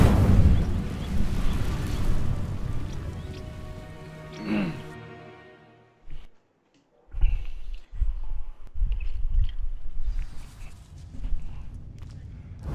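The Incendio fire spell in Hogwarts Legacy, a loud roaring whoosh of flame that builds and crackles for several seconds, then cuts off abruptly. After a brief silence, quieter rumbling and talk follow.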